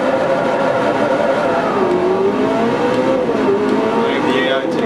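A race car engine in Forza Motorsport 4 howls steadily on track, its pitch rising and sliding through gear changes, loud and continuous, with a voice talking over it.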